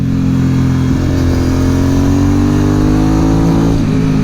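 Aprilia Dorsoduro 750 supermoto engine on the road, loud and steady under throttle, its pitch holding and then easing off near the end.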